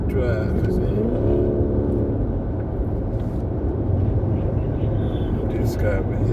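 A Dodge Scat Pack accelerates hard through traffic, its V8 engine rising in a loud rumbling surge that sweeps upward in pitch, heard close under a voice speaking over it.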